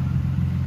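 Car engine fitted with a new aftermarket exhaust and intake idles and revs in a steady, loud low rumble, close by, with no talk over it.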